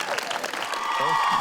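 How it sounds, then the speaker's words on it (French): Crowd applause at a dance competition awards ceremony, a brief burst of clapping with a voice speaking over it toward the end. "Voilà, on peut l'applaudir bien fort"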